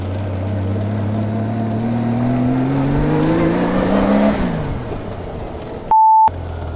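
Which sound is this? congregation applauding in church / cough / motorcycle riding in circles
motorcycle riding in circles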